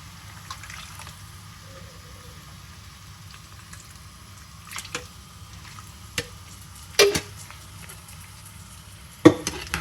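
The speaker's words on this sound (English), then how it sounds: "So give it all a good mix" Vegetable pulao with rice, onion, tomato and desiccated coconut sizzles steadily in a pan while a spoon stirs it, giving a soft, continuous frying hiss broken by occasional louder clinks against the pan.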